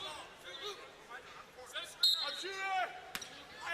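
A basketball bounces on the hardwood court during a Montana State men's game at South Dakota State, several sharp dribble thuds heard over arena noise, squeaking shoes and an announcer talking.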